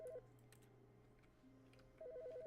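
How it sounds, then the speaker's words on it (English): A quiet electronic phone ring in the video game The Stanley Parable trills in short repeated bursts at the start and again near the end, with a low hum between. "Where's the phone ringing?"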